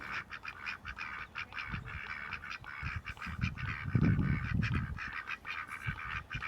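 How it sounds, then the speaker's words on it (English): Geese or ducks at Coffee State Park in Georgia honk and quack in a rapid, chattering flock, fairly faint and continuous with a few louder bursts. "let's look at the geese or ducks"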